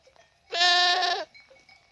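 A single lamb bleats once, loud and close, a harmonic cry lasting under a second against a quiet rural hillside, with faint ambient sounds before and after.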